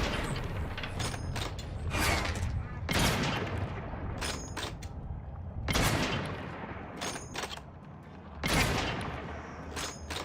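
Gunfire in The Outer Worlds 2 comes in repeated loud bursts of rapid shots separated by short pauses, with mechanical clatter between volleys and brief speech in the mix.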